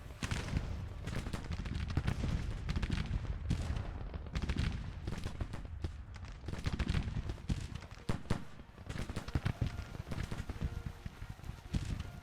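Grand Tactician: The Civil War battle sounds, dense crackling musket volleys and booming artillery fire in a Union spring 1861 engagement, loud, continuous and irregular with overlapping shots near and far.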